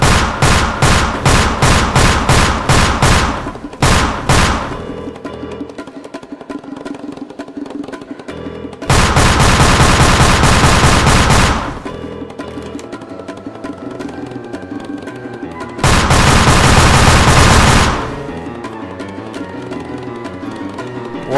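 Scout's guns firing in Team Fortress 2, loud rapid bursts of shots: a quick string of reports at the start, then two long sustained volleys separated by quieter stretches of game background sound.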